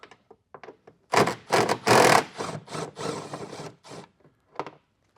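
An impact wrench loosens air filter housing bolts in several loud, close, buzzing bursts of varying length, separated by short gaps and faint clicks.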